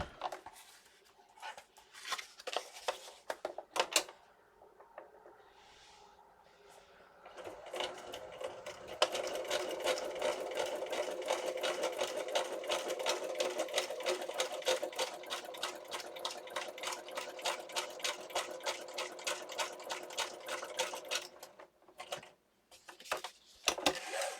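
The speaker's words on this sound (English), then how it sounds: "I'm just going to sew along the top right now" A sewing machine set to a long stitch stitches along the top edge of stacked paper, with a few short stops and starts, then runs in a steady, close, rapid clatter for over ten seconds before slowing and stopping, with no talking.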